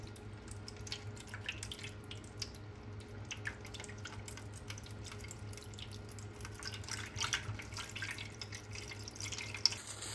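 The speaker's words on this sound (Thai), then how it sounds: "ใส่น้ำส้มสายชูลงไปนะคะ แช่ให้ท่วมหนังนะคะ" Vinegar trickles and drips over pork skin being soaked for Thai crispy pork, a steady faint liquid pour with scattered drips and a low background hum throughout.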